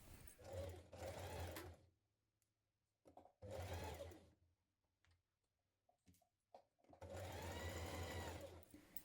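A domestic sewing machine stitching a seam on children's dungarees, running in three loud, close bursts of rapid mechanical whirring separated by quiet pauses with small clicks.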